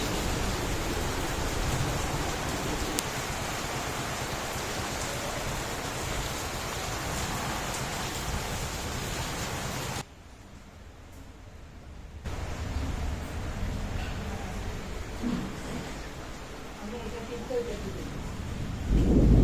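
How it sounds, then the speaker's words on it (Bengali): Steady, heavy rain pours down after a spell of hot weather, a dense hiss that drops away briefly midway and then returns just as strong; a voice may be faintly present under the downpour. "অবশেষে বৃষ্টি হলো বেশ ভালোই হয়েছিল"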